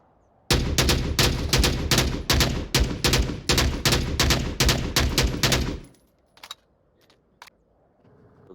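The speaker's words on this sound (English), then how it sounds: "Lots of gunshots coming out at the moment." Rapid bursts of gunfire in the VR shooter game Onward crackle continuously for several seconds, loud and sharp, then stop abruptly, leaving a few scattered distant shots.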